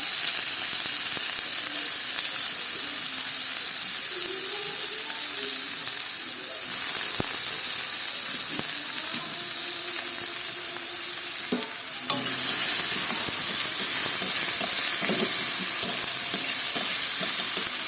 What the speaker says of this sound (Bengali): পেঁয়াজটাকে অল্প লবণ দিয়ে ভালো করে ভেজে নিতে হবে।